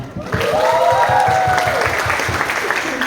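A theatre audience claps after a stage performance, a broad wash of applause mixed with a voice and a run of low rhythmic thuds underneath.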